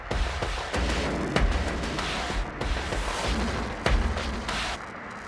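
Processed high-frequency percussion groove in a master-class demo of the Impact Soundworks Tape Sculptor tape plug-in, with dense, loud, continuous hits, sharp transient accents and a heavily saturated, noisy texture throughout.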